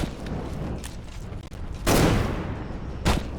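Gunfire in the World War I video game Conscript on the German side: two sharp loud bursts of shots over a low rumbling battlefield background.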